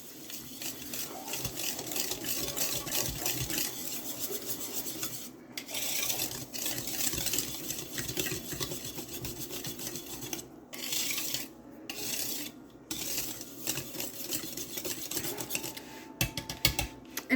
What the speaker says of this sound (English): get yourself a whisk. Stir all that together